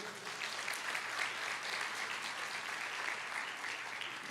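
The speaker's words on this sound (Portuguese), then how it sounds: "Você pode aplaudir o Senhor?" A church congregation applauds during a sermon, a continuous roomy patter of many hands clapping at moderate volume, with no speech over it.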